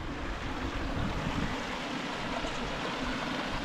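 A small stream cascades over granite rocks on a mountainside, giving a steady, close rushing and splashing of water that continues without pause and with no voices.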